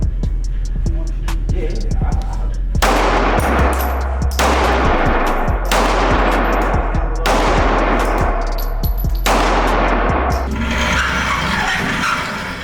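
Loud 9mm shots from a Glock and a Palmetto State Army Dagger pistol at an indoor range, about six sharp heavy reports spaced a second or so apart with a boomy low tail, close and dominant.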